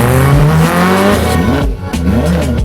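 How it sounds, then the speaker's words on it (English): A very loud BMW M3 revs hard on Mulholland Highway, its engine pitch climbing and falling in several quick bursts, close and dominant throughout. "Heard a very loud M3,"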